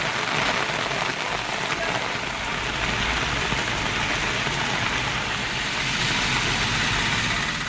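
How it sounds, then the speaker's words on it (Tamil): Heavy rain pours steadily across Tamil Nadu hills around Kodaikanal, a dense continuous hiss of drops hitting surfaces, loud and unbroken throughout with a faint low rumble beneath. "கொடைக்கானல் மலைப்பகுதிகளில் கனமழை பெய்தது."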